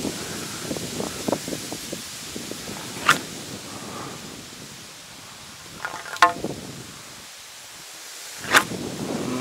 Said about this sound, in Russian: Право, ветер